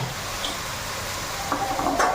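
Meat and spices sautéing in a pan with stirring, a steady low sizzle throughout and a few louder scrapes and clinks near the end, no voices.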